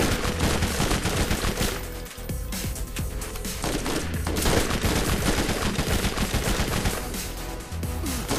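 Dense, nonstop gunfire from the Borderlands shooter game, rapid automatic bursts layered with loud blasts, filling the whole stretch with no pauses.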